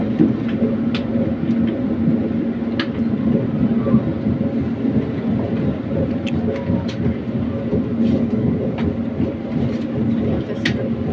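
Passenger train pulling into Lempuyangan station in Yogyakarta, a loud continuous low rumble and rolling noise from inside the carriage, with faint squeaks and clicks on top.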